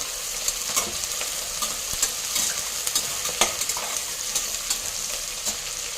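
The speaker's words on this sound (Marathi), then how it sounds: "आणि आता याच्यामध्ये आपण हा लसूण घालून घेणार आहोत लसूण आणि त्याच्यासोबतच कांदा" Garlic and long-sliced onion sizzle in a hot pan, a steady bright frying hiss broken by regular scrapes and stirring clicks of a spoon, close and even throughout with no voices.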